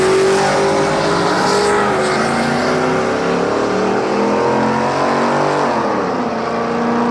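Lifted Chevy Tahoe with a cammed motor and fender exit exhaust revs loudly and up close, a deep, steady engine roar that rises and falls in pitch throughout without a break.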